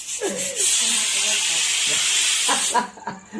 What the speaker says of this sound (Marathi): शिट्या व्हायला लागल्या आता तुम्हाला नसताय व त्या कुकर मधलं काय समजत